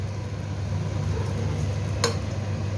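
Masala frying in oil in a pan as it is stirred for a Rayalaseema mutton curry, a steady close sizzle with a brief sharper scrape near the end.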